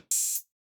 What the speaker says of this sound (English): and gated hats like so.